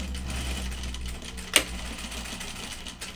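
A sewing machine stitches a bib in a steady mechanical whir, broken by one sharp click midway.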